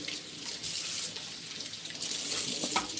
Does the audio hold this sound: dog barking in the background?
no